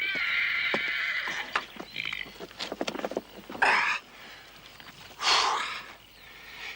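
Horses neigh and whinny loudly in a drama set in the Australian bush, with shrill calls at the start and two strong bursts later, over snorts, hoof clatter and outdoor rustling.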